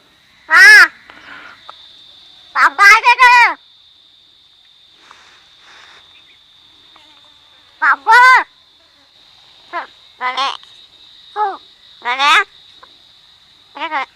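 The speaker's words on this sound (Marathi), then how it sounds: "हा एकमेव बोलणारा कावळा आहे" A talking crow gives loud, harsh, voice-like calls in short bursts, some single and some in quick clusters, separated by near-silent gaps.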